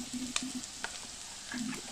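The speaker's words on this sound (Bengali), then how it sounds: "দিয়ে এবার আদা রসুন পেঁয়াজ সব আবার ভালো করে ভাজা করে নেব।" Onion, garlic and ginger paste frying in a pan for a chicken kofta curry, with a steady close sizzle and a few faint clinks and stirring knocks.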